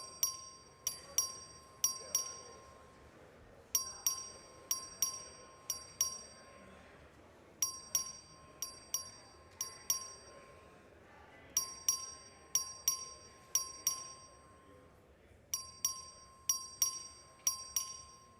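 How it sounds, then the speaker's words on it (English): A voting bell in a legislative House chamber rings in regular groups of bright, clear dings, repeating steadily and fairly faint over a quiet room. "Clerk, ring the bell."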